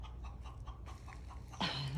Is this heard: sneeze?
no